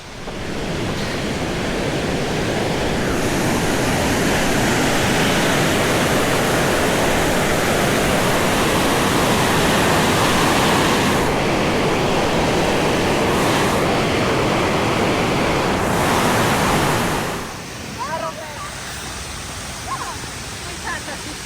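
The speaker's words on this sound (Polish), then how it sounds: "Uwaga, bo tu woda bokiem leci." Loud, continuous rushing of water flowing beside a trail near Karpacz, Poland, roaring close by for most of the clip before dropping away abruptly near the end, leaving quieter ambience.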